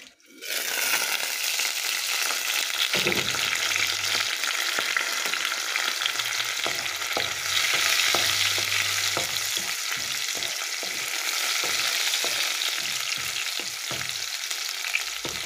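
Onions, carrots and minced meat fry together in a pan for a mashed matoke and minced meat dinner. A continuous close sizzle runs throughout, broken by repeated scraping and stirring knocks.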